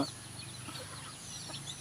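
Pet chickens cluck softly and intermittently in the background, faint and somewhat distant, with low ambient noise around them.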